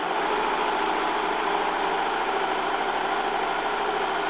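A serger sewing machine stitches and trims fabric with its built-in knife, producing a constant close, loud, buzzing motor hum with a fine rapid stitching texture throughout, and nobody speaking.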